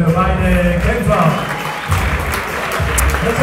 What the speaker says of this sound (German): nochmal einen großen Applaus bitte für beide Kämpfer